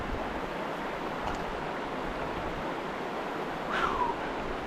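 A cold river flows steadily outdoors on a hot summer day near an 1848 iron forge site, a constant broadband rush of water with no voices, plus a faint bird chirp near the end.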